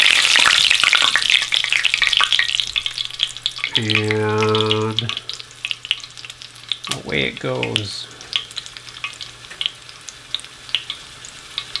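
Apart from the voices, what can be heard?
Jerusalem artichokes deep frying in fat in a small pan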